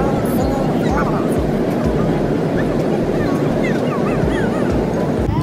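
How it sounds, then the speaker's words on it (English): Constant loud cabin drone inside an airliner on an eleven-hour long-haul flight, a dense steady roar with faint higher chirps on top. "This flight is total of 11 hours."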